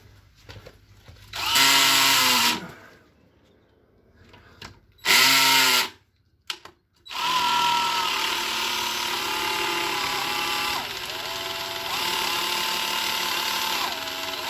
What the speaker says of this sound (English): I'll bog it onto a piece of wood with a big auger bit to see what happens